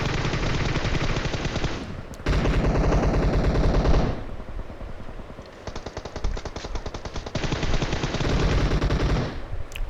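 Rapid bursts of automatic gunfire from PUBG Mobile, loud and close, firing in sustained volleys with brief pauses between them and no talk over it.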